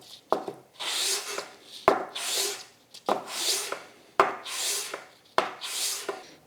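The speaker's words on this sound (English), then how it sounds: "this is 15 micron sandpaper. I'm going to try to polish a little bit this surface." Sandpaper of 15 micron grit rubbed over a metal power steering control valve part from a Massey Ferguson 231 tractor, laid on flat glass, giving five rhythmic rasping back-and-forth strokes, each starting with a sharp tap, close and alone.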